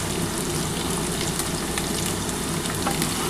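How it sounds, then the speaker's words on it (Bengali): Potato and drumstick (moringa) pieces fry in a pan with five-spice, giving a loud, dense, continuous sizzle with no pauses and no voices. "পাঁচফোড়নের সাথে আলু আর ডাঁটাটা একটুখানি ভাজা ভাজা করে নিই"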